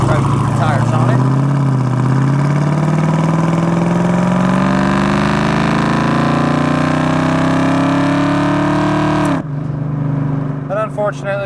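A 1990 Ford Mustang LX coupe with a 5.0 V8 and automatic transmission accelerates hard from inside the cabin, engine note rising steadily for several seconds before abruptly easing off, followed by faint voices.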